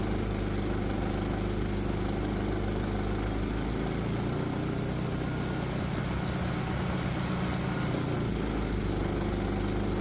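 A Predator 212cc small engine drones steadily under load on a dyno, a loud continuous mechanical hum whose tone deepens and roughens briefly in the middle before settling back.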